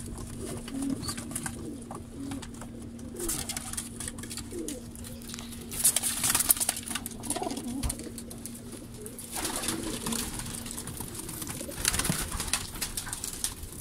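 Red-beaked golden teddy pigeons coo softly and repeatedly in the background, with a steady low hum and scattered rustling nearby.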